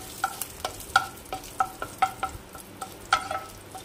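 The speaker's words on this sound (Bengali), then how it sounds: "জাস্ট একটা কটা নিম পাতা নিয়ে ভেজে নেব" Neem leaves fry in hot oil in a pan for a Bengali neem jhol, giving a steady sizzle broken by sharp clinks and stirs of a utensil at irregular intervals, close and clear with no talk.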